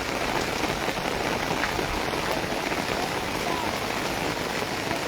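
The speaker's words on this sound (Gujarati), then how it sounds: "હાલ આ વરસાદ આવી રહ્યો છે" Heavy rain pours steadily in a village during an early-morning downpour, a dense, loud, unbroken hiss of drops drumming on surfaces that runs the whole stretch without easing.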